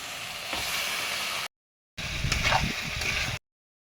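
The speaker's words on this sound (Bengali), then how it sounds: "দেখো আমার মশলাটা ভাজা হয়ে গেছে। এখন দিয়ে দেবো ফুটুটা আর আলুটা।" Cauliflower and potatoes hit hot frying spices in a pan with a steady hiss and sizzle, broken by two brief silent cuts, with a louder crackling swell in the middle section.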